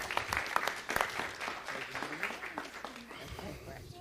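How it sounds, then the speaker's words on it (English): A city council chamber audience claps in a round of applause for honored guests, moderately quiet and uneven, with voices talking over the clapping throughout. "Give them a round of applause."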